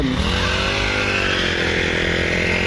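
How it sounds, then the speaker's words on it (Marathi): An engine-powered three-pass Indian Agro Industry weeding and hoeing cultivator from Chakan, Pune, runs alone with a loud, steady, buzzing small-engine whine close by. "तीन पासवाले इंजिनवर चालणारे कोळपणे खुरपणे डवरणी यंत्र"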